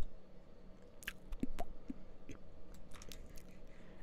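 Crunchy chewing of dried kelp in a Minecraft-style video game, a few short bites and squishy munches spread over a steady low background, fairly close and not loud.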